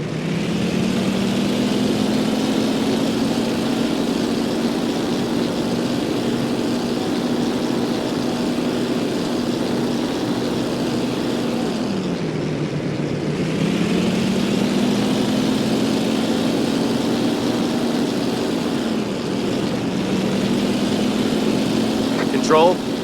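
Propeller aircraft engine droning loud and continuous in the Damage Inc. combat flight game as the plane's force speed boost is engaged, the steady tone dipping in pitch midway and then climbing back.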